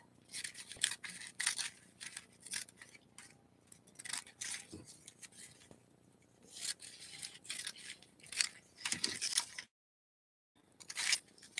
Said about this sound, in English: So let's go on ahead and cut our ribbons.